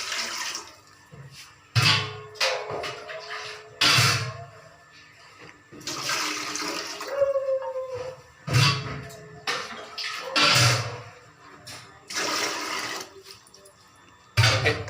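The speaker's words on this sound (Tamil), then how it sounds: "இந்த மாதிரி ஒரு நல்ல பெரிய பாத்திரமா எடுத்து தண்ணி ஊற்றிக்கோங்க" Water gushes into a large cooking pot in repeated pours, each a bright rushing splash a second or two long separated by short pauses, close by and fairly loud.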